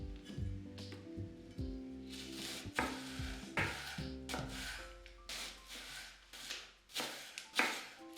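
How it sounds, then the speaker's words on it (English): A knife slices a red onion into thin strips on a cutting board, giving a steady series of crisp chopping strokes with a rubbing scrape between them, close and fairly clear. "Slice a red onion into thin strips."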